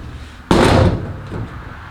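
A single solid door slam on a 1956 VW Beetle after a squeak fix, a sharp close thunk followed by a brief rattle and settle, alone with no talk.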